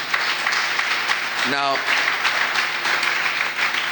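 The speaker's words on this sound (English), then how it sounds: "Round of applause for the panel." An audience gives sustained, dense applause for a panel at a university's tenth anniversary event, with a voice briefly speaking over the clapping.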